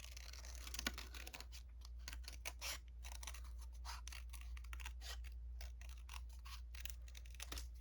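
Scissors snip through paper to cut out a circle, giving a quiet series of short crisp cuts in an irregular rhythm over a faint steady hum.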